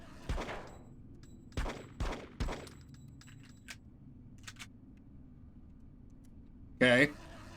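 Desert Eagle pistol fired at a shooting range in a video game, four sharp loud shots in a quick uneven sequence, followed by quieter mechanical clicks and a brief burst of speech.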